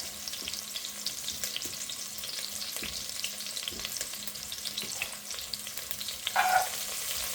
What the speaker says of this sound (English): We're gonna cook the onions until they're nice and soft.